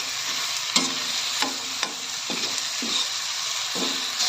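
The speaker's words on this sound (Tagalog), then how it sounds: "ginigisa ko na yung aking mga rekado" Spices, tomato and garlic sauté alongside large fried galunggong fish in a hot pan, giving a steady sizzle broken by several sharp scraping clacks of a spatula stirring, close and fairly loud.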